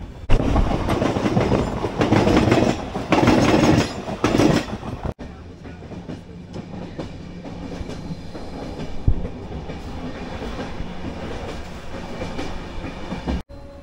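An express train from Kolkata toward Sikkim rumbles along the rails near Bandel with a loud, rattling roar that eases into a steadier rolling clatter of wheels on track.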